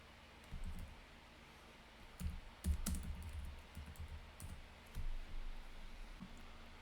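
Computer keyboard typing in short bursts of clicks and taps, moderately close and fairly quiet, with pauses between flurries and no talking.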